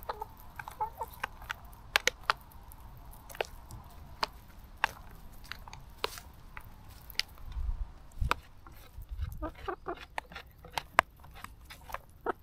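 Chickens cluck softly nearby, with scattered sharp pecking and tapping sounds at an uneven pace in a quiet setting.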